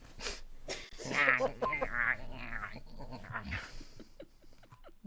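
A voice imitates anime girl noises with squeaky, breathy yelps and whines, close and moderately loud, followed by quieter scattered vocal sounds.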